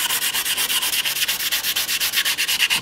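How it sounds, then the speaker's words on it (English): Sandpaper scrubs a carbon composite blade surface before a diamond patch bonding repair, in steady rhythmic back-and-forth strokes, close and continuous with no voices. "you want to sand the surface so you get a good bond"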